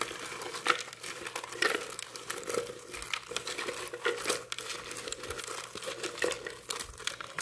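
Small paper cards being handled close up, with a continuous run of crinkling, rustling and light tapping.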